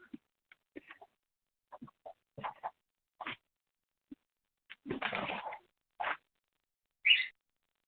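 A small bird gives short, scattered chirps and calls at a moderate distance, sparse and intermittent against a quiet background, with one longer rough burst midway.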